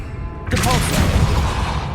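Depulso force spell in the game Hogwarts Legacy: a sudden loud whooshing blast that cuts in abruptly after a quiet lead-in, then a dense roaring, rumbling wash that holds for over a second, close and full.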